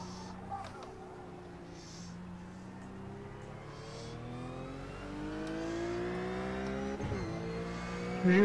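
A BMW race car engine in the sim racing game iRacing at the Spa circuit, a steady droning note that climbs through the gears with rising pitch sweeps, moderately loud under faint background noise.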